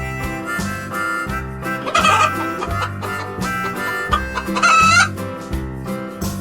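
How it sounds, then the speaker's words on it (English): A hen clucks in two short bursts over a bouncy, repetitive backing tune. "H for hen."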